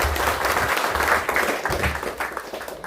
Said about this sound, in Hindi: जोरदार तालियों से आज स्वामी जी का धन्यवाद